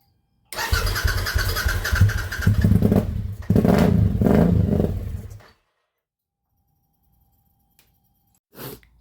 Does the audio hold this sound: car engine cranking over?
yes